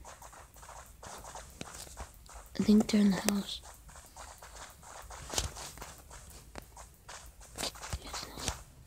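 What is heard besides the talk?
footsteps in video game Rules of Survival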